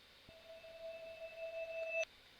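A faint synth sample from an FL Studio hardstyle project holds one steady tone with a thin higher overtone, then cuts off abruptly after about two seconds.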